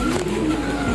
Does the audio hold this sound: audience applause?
no